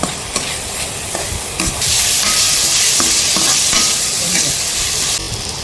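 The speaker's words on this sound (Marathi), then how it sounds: "आलं लसूण मिरची कोथिंबीरची पेस्ट आहे, ती टाकून घेतली आपण। छान परतून घेऊया ती पण।" Ginger, garlic, green chili and coriander paste is sautéed in a pan for mutton paya, with loud continuous sizzling and frying and occasional clinks and scrapes of a stirring spoon.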